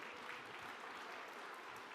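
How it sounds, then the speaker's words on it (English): Steady, dense applause from a crowd, continuous and even throughout, with no voices standing out. "give yourselves a round of applause"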